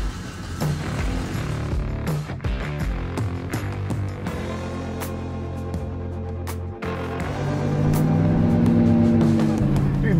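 A restomod 1964 Oldsmobile Cutlass engine hums steadily while driving, with road and tire noise, swelling louder toward the end as it accelerates.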